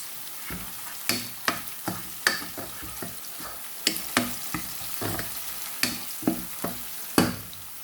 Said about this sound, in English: I want it to cook together with the onions, cook down.